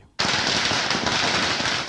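A long string of firecrackers bursts in Delhi, a dense, continuous crackling barrage that starts abruptly and stays loud and close, with no gaps, for nearly two seconds.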